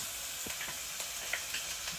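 Garlic sizzles in a hot pan with onions for a budget spaghetti, a steady faint frying hiss broken by soft crackles and pops, with no voices.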